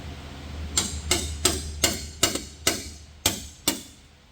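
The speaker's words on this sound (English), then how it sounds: "I got a bigger hammer and I got an edge, but it's still not coming very nicely." A bigger hammer striking a stuck truck part sealed with silicone, about eight hard metallic blows at a steady, slightly uneven pace over a low background hum, close and loud.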